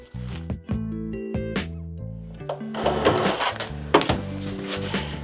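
A Cricut Maker cutting machine cuts vinyl with stepping motor whirs that change pitch in short tonal bursts, followed by busier scraping and clicking movement, close and fairly loud.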